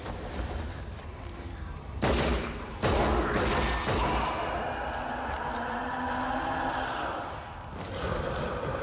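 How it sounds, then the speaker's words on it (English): Gunshots in the zombie shooter Sniper Elite: Nazi Zombie Army, a few sharp loud reports around the middle with booming echoes and a lingering rumble of game ambience afterward. "This calls for some more pistol action!"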